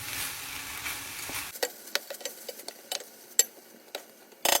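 Minced meat frying in a pan with chopped onion, garlic and red and green hot chili peppers, stirred together: a soft sizzle with sharp scraping clicks of the spoon at irregular intervals, close and fairly quiet, ending in a louder burst.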